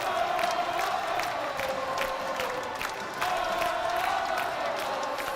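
A packed crowd at a college men's basketball game roars and cheers continuously, with whoops and shouts rising over a dense, loud wall of noise late in a close contest.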